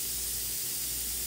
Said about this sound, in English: there's a nice orange in here that I'm gonna start spraying in here